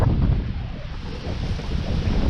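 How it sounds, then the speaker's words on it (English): Strong wind buffets the microphone outdoors near a disused railway station, a loud, continuous low rumble with gusty swells and no talk. "Oh, that's windy."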